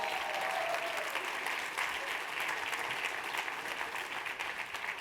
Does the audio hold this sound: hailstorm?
no